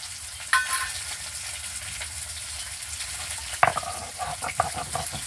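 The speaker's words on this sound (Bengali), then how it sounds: "এই মাছগুলো আমার ভালো করে ভেজে নেওয়া হয়ে গেছে, তুলে নেব" Katla fish frying in a pan of oil, a steady close sizzle with occasional louder crackles and clinks as pieces are moved and stirred, no talk.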